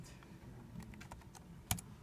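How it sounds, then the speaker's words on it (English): Light tapping on a computer keyboard during a precalculus lesson, a few scattered keystrokes ending in one sharper clack, close and fairly quiet. "I should have just been using the keyboard from the beginning"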